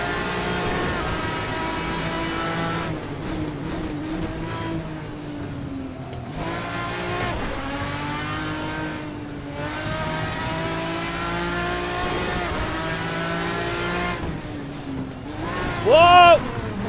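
An RSS race car engine in the Assetto Corsa racing game revs and shifts through gears, rising and falling in repeated pulls with a sharp high rev near the end, while people talk over it.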